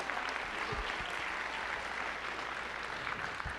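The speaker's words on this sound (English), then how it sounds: "Let's give our students a warm round of applause." Warm round of applause from an audience of parents honoring students receiving graduation pins at a People to People student travel meeting; steady, dense clapping fills the clip at an even level without talk.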